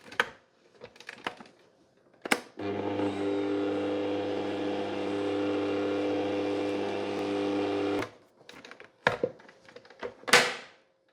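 A mixer hums steadily at low speed for about five seconds while it works cheese shortbread dough. Scattered knocks and clicks sound before and after the motor runs.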